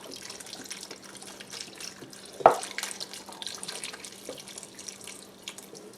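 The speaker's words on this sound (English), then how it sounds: "pour that right in over the potatoes and the onions" Chicken stock pours from a 32-ounce carton over potatoes and onions in a pot, a soft liquid trickle with one brief splash near the start, faint and steady throughout.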